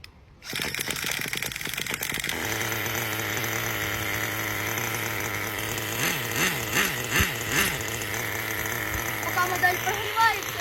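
A small nitro model engine starts and idles while warming up for carburetor tuning, giving a loud continuous buzzing whine with brief revving surges near the end.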